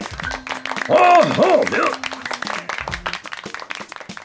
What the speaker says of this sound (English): Round of applause, man.